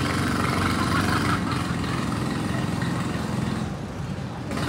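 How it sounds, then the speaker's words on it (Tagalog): A go-kart engine runs at Boryeong race track in South Korea, a loud, continuous buzzing drone close by with slight rises and falls in pitch and no talk over it. "Mahina lang yung makina."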